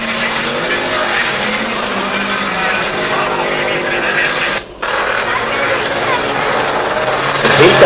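An Audi 200 Turbo race car drives in a 1985 club race, its engine a steady, loud drone heard under a commentator talking throughout, with a brief dropout near the middle.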